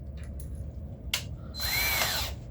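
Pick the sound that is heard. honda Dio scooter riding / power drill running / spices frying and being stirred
power drill running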